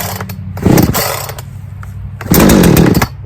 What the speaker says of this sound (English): I know enough about chainsaws to know that once you get an almost start like that